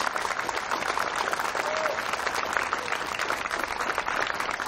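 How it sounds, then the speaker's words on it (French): Steady applause from an audience at a municipal police honours ceremony, moderately distant and even, with a faint murmur of voices underneath. "vous pouvez les applaudir, mes chers amis, car ils le méritent"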